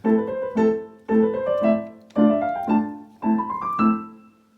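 A piano plays section A of Burgmüller's Arabesque in four short phrases of a few notes each, clear and moderately loud with no voices.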